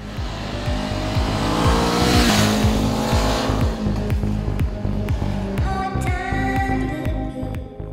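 A loud Honda CBR 500R sport motorcycle engine revs up and down at high speed while riding, rising and falling in pitch as it accelerates and shifts, close and continuous.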